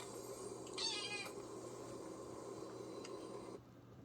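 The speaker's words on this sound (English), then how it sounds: "Here's the cat." A domestic cat meows once, a short clear call near the start, over steady background hum from a television-style animal program.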